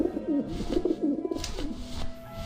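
Pigeons coo repeatedly in Grim Fandango, a run of soft, rolling calls close by over a steady low game ambience, with no talk.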